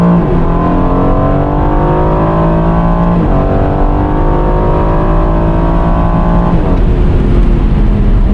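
An Aston Martin Vantage F1 Edition accelerates hard in second gear toward its 7,000 rpm redline. The engine note is loud and close, its pitch climbing steadily and dropping briefly twice before rising again.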